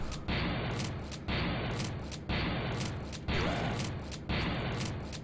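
Machine gun fire in the video game Factorio, coming as five evenly spaced one-second bursts of loud, rapid, dense gunfire separated by short gaps, close and steady.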